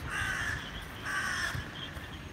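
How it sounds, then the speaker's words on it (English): Crows caw over a Paris riverside walk at sunrise, two clear, moderately distant calls spaced about a second apart against faint ambient hum. "I hear the crows."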